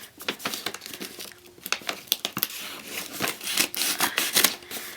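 Cardboard packaging of an American Girl boy doll being cut open with unboxing scissors: close, busy crinkling, snipping and tearing in irregular bursts, with no talking.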